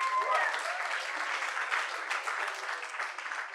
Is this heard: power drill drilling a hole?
no